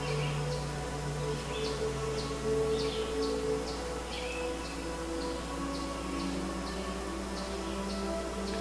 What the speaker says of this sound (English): hear the sound of all the birds outside here.